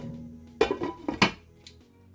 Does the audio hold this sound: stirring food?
yes